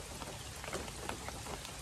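Steady rain pours over an oil palm plantation, a dense even hiss of drops striking leaves and ground without a break, close and continuous with no voices.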